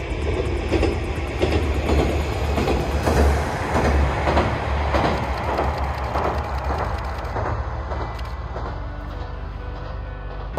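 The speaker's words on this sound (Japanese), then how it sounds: "それ続いてやってきましたのは普通列車です。" A single-car local train passes at speed ahead of a mountain pass, its loud rumble and rhythmic wheel clatter filling the air before fading away toward the end, with no talking.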